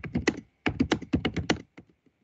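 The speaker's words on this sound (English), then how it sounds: "Let me just type into the chat." Quick bursts of keystrokes on a computer keyboard, a clustered run of taps, a short pause, then another dense run that trails off into a few scattered clicks, close and clear with no voices.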